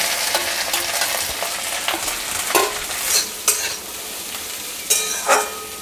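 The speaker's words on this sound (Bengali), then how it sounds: "এটাকে হালকা করে সাঁতলে নেব" Pointed gourd pieces with prawns and green chillies are lightly fried in a pan, a close, bright sizzle broken by repeated scraping strokes of a spatula stirring at an uneven rhythm.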